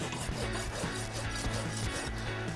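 Steady, continuous rasping and rubbing, a rough file scraped back and forth over a horse's hoof in quick repeated strokes, close and even in loudness.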